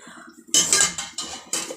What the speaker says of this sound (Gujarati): ચમચાથી લઈ લો